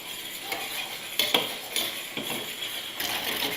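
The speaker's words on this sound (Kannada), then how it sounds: "ಈ ರೀತಿ ತಿರುಗಿಸ್ತಾ ಒಂದು 5 ನಿಮಿಷ ಇದನ್ನು ಕುದಿಸ್ಕೊಳ್ಳೋಣ." A spoon stirs a boiling rava mix in a pot on a stove, scraping and knocking against the metal in irregular strokes, with a steady bubbling hiss underneath and no voices.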